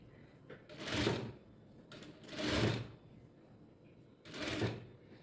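A sewing machine stitches a child's frock in three separate bursts of whirring, each about a second long with quiet pauses between, close and moderately loud.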